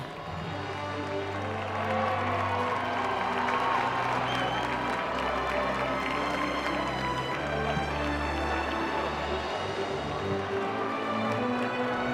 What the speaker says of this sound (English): outside the crowd is clamoring for me